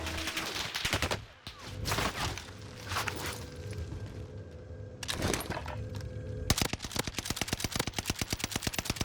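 First-person shooter video game gunfire: scattered single shots and short bursts early on, then a long rapid automatic volley near the end, loud and close with faint game ambience between.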